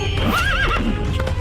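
A horse in a Hindi cartoon lets out a loud, wavering whinny over steady hoofbeats, close up and with no talk.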